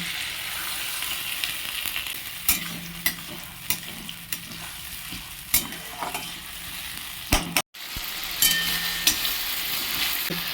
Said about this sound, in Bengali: দিয়ে দেবো কিছু পরিমাণ জল